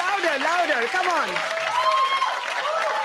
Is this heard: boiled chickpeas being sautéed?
no